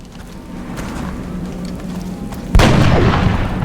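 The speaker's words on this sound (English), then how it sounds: "Let's see if we can get the precision shot" A precision shot rings out in XCOM Enemy Within Long War: a single loud, sharp gunshot bursts in after a quiet lull of ambient hum, then rings out with a heavy tail.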